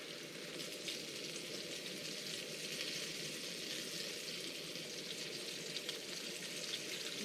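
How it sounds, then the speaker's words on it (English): Steady dense patter of rain on a taut tarp, continuous crackle with a hiss that could pass for frying, with walleye frying nearby at a wilderness campsite, no voices. "You hear that? Not the walleye sizzling, the raindrops on the tarp."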